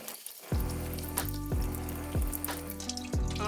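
Water runs from a sink tap onto underwear being wetted, a close splashing stream broken by repeated irregular surges and gurgles as the fabric is moved under the flow.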